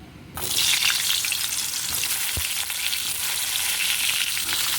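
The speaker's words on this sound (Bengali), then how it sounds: "এই তেলের মধ্যে বেগুনগুলো ভেজে নেব" Eggplant pieces drop into hot oil left from frying potatoes and burst into a loud, steady sizzle after a quiet start, with a brief clunk partway through, close up and without speech.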